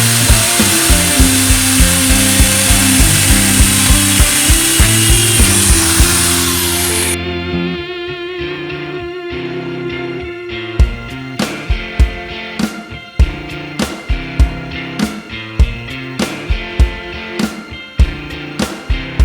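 Power drill boring a hole through the steel firewall of a Volvo to pass an oxygen sensor wire, a loud sustained whine for several seconds, then quieter tool handling with sharp repeated clicks and knocks.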